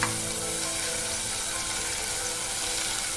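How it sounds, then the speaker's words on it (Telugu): Beetroot frying in ghee for beetroot halwa gives a steady, close, even sizzle that holds at the same level throughout, with no talking. "ఈ నేతిలో ఇప్పుడు బీట్రూట్ వేయించుకుందాం ఉన్న నేతిలో"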